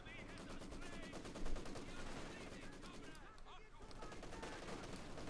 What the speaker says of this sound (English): it's already light machine gun there, just cutting those conscripts to ribbons